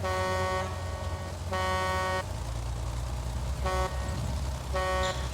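A vehicle horn in a World War II video game honks in four separate blasts, two long and two shorter, over a low rumbling engine drone.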